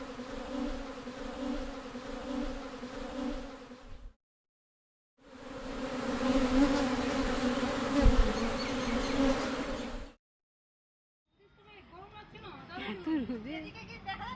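Swarming honeybees drone steadily around bee boxes at an apiary, a dense close buzz in two long stretches separated by brief silences, followed by a fainter, more scattered hum of individual insects.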